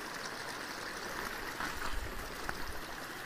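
Mountain water runs down through jungle farmland, a faint, steady trickling rush with soft gurgles, heard alone from a modest distance.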